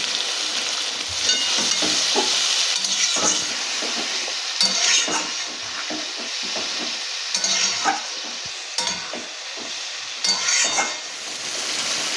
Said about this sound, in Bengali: আলু আর মশলা খুব ভালোভাবে আমি কষিয়ে নিয়েছি